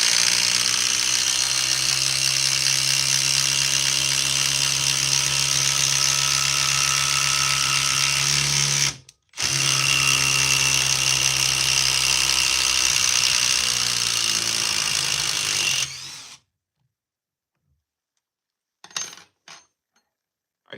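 An M12 sub compact impact driver drives an 8-inch TimberLok screw in a long loud continuous hammering whir that pauses briefly and then runs again before stopping, followed by a few faint clicks.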